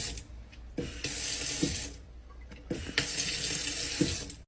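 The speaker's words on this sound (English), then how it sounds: "you have to tap the faucet to turn it on" Kitchen faucet running water into a sink holding strawberries, flowing loudly in two bursts separated by a brief quieter pause, with no talking.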